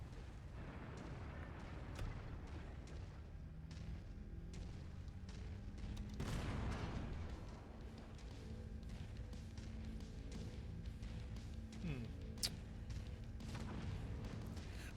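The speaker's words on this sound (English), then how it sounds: "I can hear explosions, but I don't see anything." Explosions during a MechWarrior 5 mech battle rumble faint and distant as low booms, with one stronger burst partway through and the rest a muted background of combat.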